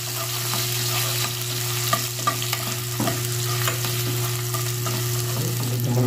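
Ginger sizzles steadily in a hot pan as it fries, with occasional stirring scrapes over a constant low hum, close and fairly loud with no talking.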